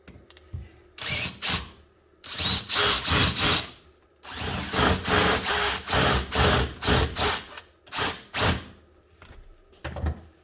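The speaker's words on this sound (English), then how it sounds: "So I'm going to drill these out" A power drill bores out rivets on a DIY folding camping table, sounding in a string of short, whining bursts separated by brief pauses, loud and close.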